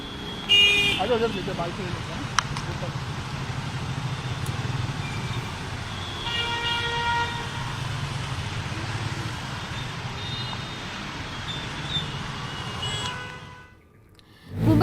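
Heavy traffic jam in Colaba, Mumbai during the first monsoon rain, with idling car and truck engines rumbling and scattered horns tooting and honking throughout, a voice talking over it, before the sound briefly drops out near the end.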